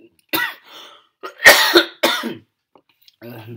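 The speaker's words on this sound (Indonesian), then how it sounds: "Batuk." Several harsh, close coughs in quick bursts, separated by short pauses, with a faint voice near the end.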